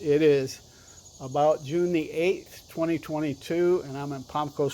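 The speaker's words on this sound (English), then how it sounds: "You can hear the heat bugs in the background because it's supposed to get up above 90 today." Cicadas (heat bugs) in hot summer weather in Palm Coast, Florida, keep up a constant high insect buzz in the background while someone talks close up over it.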